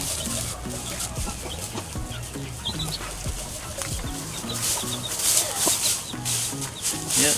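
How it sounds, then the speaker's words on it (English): A Shamo hen clucks among other chickens in a busy, noisy yard, with scattered soft clucks and rustling under constant background clatter and no clear speech. "That's Pinstripe, my Shamo hen."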